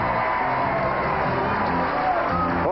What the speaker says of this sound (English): This crowd is always enthusiastic, and they welcome us each year.